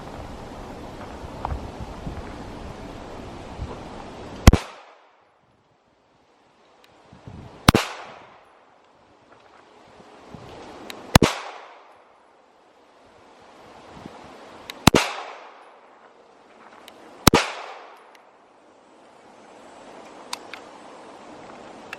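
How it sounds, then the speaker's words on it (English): Smith & Wesson Shield Performance Center handgun fired five times at an outdoor range from seven yards, sharp loud cracks spaced about three seconds apart, each trailing off in a long echo over faint wind. "I'm just gonna fire 5 shots just to remember the feel of it"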